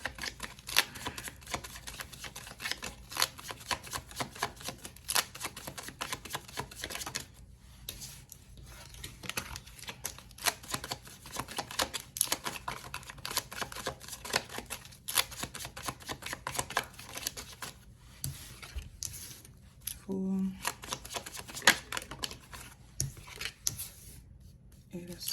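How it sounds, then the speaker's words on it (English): Tarot cards are shuffled over and over in a quiet room during a pick-a-card reading, a steady stream of close soft riffling and flicking that runs for a long stretch with brief pauses. "I keep shuffling."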